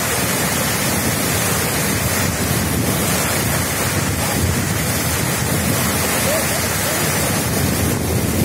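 Sea waves surging over the quay at Izola, a broad continuous roar of water and surf mixed with heavy wind buffeting, loud and close throughout.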